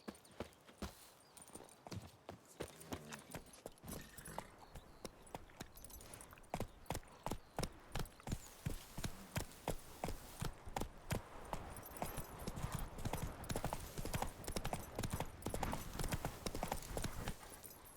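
Horse hooves in the Witcher 3: Wild Hunt video game, a steady rhythmic clip-clop that quickens into a loud, driving gallop, with a brief whinny early on and no talk.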